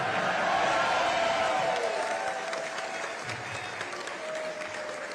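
An audience at a speech in Nigeria claps in a dense, steady burst of applause with some cheering, loud and sustained throughout before easing slightly.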